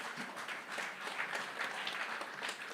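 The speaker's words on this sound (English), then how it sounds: "Let us give them a round of applause." A teachers' union conference audience gives a round of applause at an opening ceremony, a soft, distant, steady roll of many hands clapping in a large room, with no voices over it.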